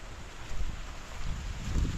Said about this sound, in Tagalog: May halong hangin.